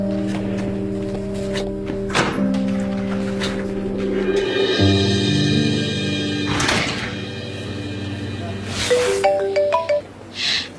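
A mobile phone ringtone plays as a sustained electronic melody with shifting tones, mixed with indoor clatter and thumps, while people talk nearby.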